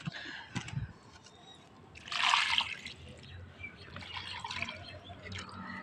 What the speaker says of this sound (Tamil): தண்ணி ஊற்றுறோம் கொஞ்சம் நேரத்துக்கு கொஞ்சம் நல்லா அது வந்து பதமாகட்டும்